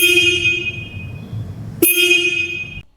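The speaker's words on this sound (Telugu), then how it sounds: "ఒకసారి హార్న్ సౌండ్ కూడా వినండి." A single horn on a 2026 BSA Scrambler 650 motorcycle sounds close and loud in two steady toots: a long blast of about two seconds, a split-second break, then a second blast of about one second.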